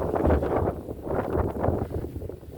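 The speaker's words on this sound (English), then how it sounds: "There's a lot of old stuff here, and it is windy." Heavy wind buffets the microphone in low rumbling gusts at an old mill in Augusta, Maine, with a faint voice underneath.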